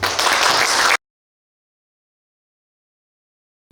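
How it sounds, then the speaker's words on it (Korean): A lecture audience gives a brief burst of welcoming applause, loud and dense for about a second before cutting off abruptly into silence. "시민 여러분들의 뜨거운 환영 박수 부탁드립니다."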